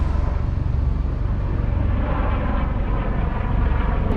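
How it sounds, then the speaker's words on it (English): A helicopter flies overhead near the Hoover Dam outside Las Vegas, a loud, steady broadband rotor and engine roar filling the whole short stretch with no speech. "Ooh, helicopter."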